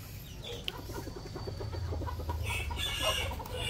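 Rhode Island chickens on a Philippine poultry farm clucking steadily throughout, with soft overlapping calls and a brief crow-like note, set against constant low background rumble; no talking.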